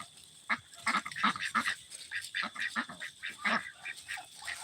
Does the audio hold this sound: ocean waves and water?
no